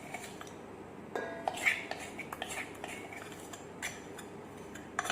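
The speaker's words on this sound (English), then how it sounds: "So start mixing those together. And we're going to whisk in, the last thing will be the eggs." Biscuit batter of chocolate, butter and eggs being whisked and mixed in a bowl gives quiet, intermittent metallic clinks and scrapes of a utensil against the bowl, with a few sharper taps.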